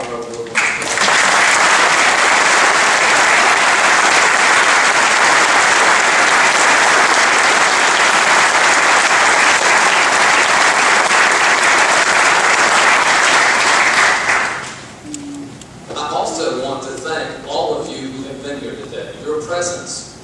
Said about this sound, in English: let's give a final round of applause to all our award winners.